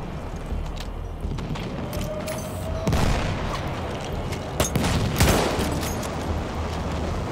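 Automatic weapon fire in the World War I shooter Battlefield 1 crackles in rapid bursts under a rumbling battlefield din, with a few louder sharp blasts standing out against the continuous background noise.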